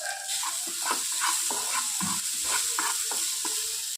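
Paratha filling with salt and turmeric is stirred in a hot pan, a rhythmic series of spatula scrapes over a steady sizzle and hiss, close and fairly loud.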